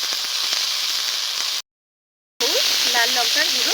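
Dried fish paste frying in a pan with chopped tomato, salt, turmeric and red chilli powder gives a steady, loud hiss-like sizzle. It cuts out briefly, then resumes with a voice or tonal sounds over it.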